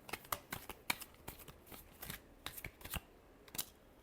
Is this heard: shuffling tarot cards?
yes